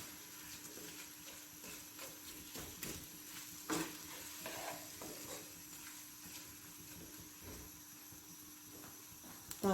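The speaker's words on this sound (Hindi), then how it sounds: "इसी में डालूंगी प्याज, और थोड़ा सा मैं इसको कुक करूँगी।" Onions soften in a pan for an egg omelette, a low steady sizzle with quiet scraping stirs and occasional clinks throughout, faint and close.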